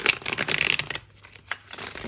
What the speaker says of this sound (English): I will give the deck a few more shuffles